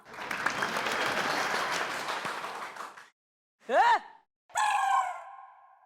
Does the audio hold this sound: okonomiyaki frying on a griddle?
no